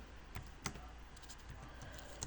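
Quiet typing on a laptop keyboard, a steady run of soft, close key clicks with a few sharper taps standing out, alone with no voices.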